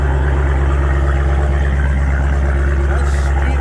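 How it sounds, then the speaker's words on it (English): A vehicle exhaust idles with a deep, steady, throbbing rumble, loud and close, holding an even rhythm throughout. "Listen to this exhaust."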